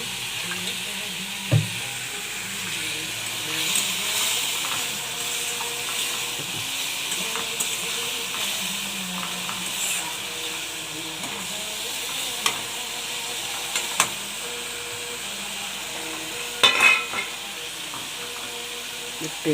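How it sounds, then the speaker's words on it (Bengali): Tomato and spices frying in hot oil with steady sizzle and hiss, punctuated by occasional scraping stirs and a few sharp clicks of a spoon against the pan, fairly close and without voices. "টমেটো আর মশলাটাকে একটু কষিয়ে নেব।"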